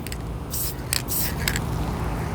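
Short hissing bursts of a spray paint can fire several times in quick succession, close and sharp against a quiet background.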